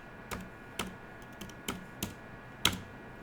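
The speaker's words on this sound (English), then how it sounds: "And I'm going to now type in Python." Keys on a computer keyboard are struck one at a time, about six crisp, separate clicks with short pauses between them, close and fairly quiet.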